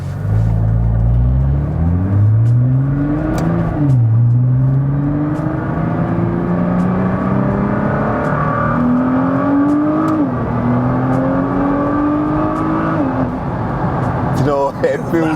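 An Audi Q7 car accelerating through the gears, its engine note rising and dropping at each shift in a steady, loud drone heard from inside the cabin.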